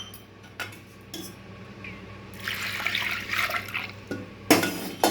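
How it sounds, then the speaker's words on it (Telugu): Water poured from a glass over lentils being prepared for a spinach dal, a broad splashing pour building midway and continuing with clinks of dishes and cutlery nearby, no talking. "ఈ గ్లాస్తోనే మళ్ళీ 3 గ్లాసుల వాటర్ పోస్తానండి."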